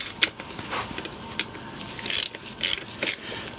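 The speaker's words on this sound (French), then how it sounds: "Et là, on visse jusqu'à la butée." Rapid ratchet clicks sound in short bursts as a spring compressor is screwed down to its stop, close and fairly quiet mechanical ticking with small metallic knocks between strokes.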